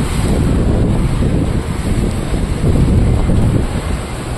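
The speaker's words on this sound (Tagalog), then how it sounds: "Ang lakas ng alon no." Strong wind and rough waves at the rainy Dangay port in Roxas, a steady loud broadband roar buffeting the microphone throughout with no voices.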